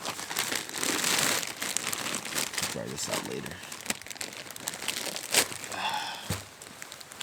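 A plastic bag crinkles and rustles loudly and continuously outdoors at a backcountry horseback hunting camp, with a voice speaking briefly over the handling noise.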